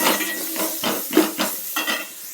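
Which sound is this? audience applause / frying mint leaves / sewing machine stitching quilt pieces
frying mint leaves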